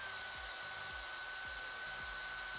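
A drill boring through steel for KITFOX aircraft horizontal slider blocks runs as a loud, continuous high whine, with a low thump repeating roughly every half second beneath it.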